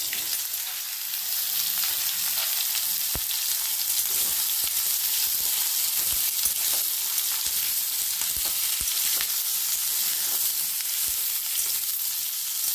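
Chopped ridge gourd and potato fry in a wok after a tempering of five-spice seeds, giving a loud, steady sizzle with scattered crackles and pops throughout.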